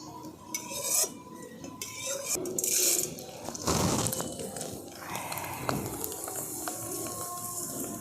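Fried sago pearls being stirred and scooped out of a pan, with metal utensils scraping and clinking against the cookware in a busy, uneven pattern at close range.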